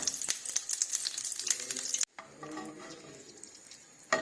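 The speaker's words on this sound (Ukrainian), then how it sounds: "Я люблю так от ще кинути вершкового масла, щоб воно трошки зараз розтопиться" Butter melting in a hot frying pan with oil, pepper and garlic, giving a soft steady crackling sizzle up close that briefly cuts off and resumes more faintly.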